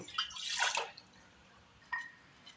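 Half a glass of water pours into a pan for masala tea in a short splashing burst that tapers off, followed by a couple of faint drips and small splashes.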